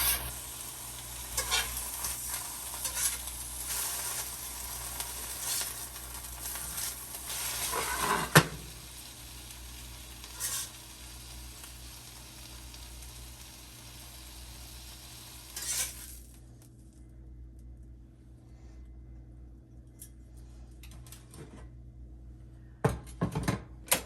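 Eggs frying in a hot pan for a Monte Cristo sandwich, a steady sizzle with occasional clinks and scrapes of kitchenware that cuts out partway, leaving quiet with a few final knocks.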